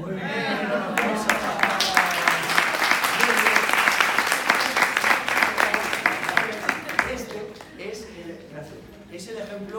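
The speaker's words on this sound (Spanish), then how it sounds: "un aplauso" Audience applause at a drama-based teaching workshop, a burst of close, loud clapping from a modest group with voices talking over it, tapering off near the end.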